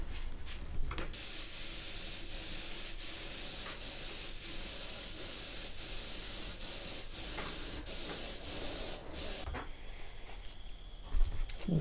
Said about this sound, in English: blow fresh air through the airbrush to blow off any last bits of dust